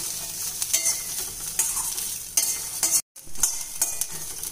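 Coconut roasting in a pan for a Karthigai aval pori dish: a steady, close dry sizzle with rhythmic scraping stir strokes, briefly cutting out to silence near the end before resuming.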